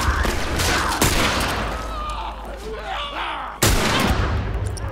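Gunfire in The Last of Us: a couple of sharp loud shots, one near the start and a heavier blast near the end, over a dense rumbling game soundscape with some faint groaning in between.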